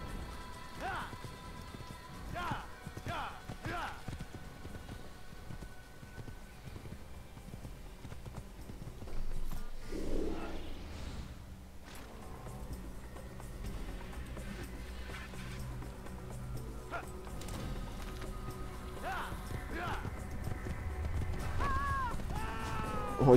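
A horse gallops in the Assassin's Creed video game, its hooves clip-clopping in quick, repeated beats at moderate loudness over game ambience, with occasional voices talking.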